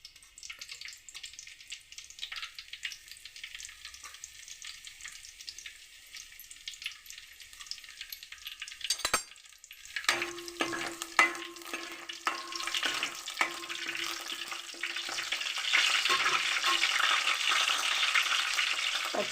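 Finely chopped garlic sizzles in about two spoonfuls of oil in a pan for a pasta dish. A steady, close hiss swells much louder partway through, with stirring clatter and one sharp knock midway.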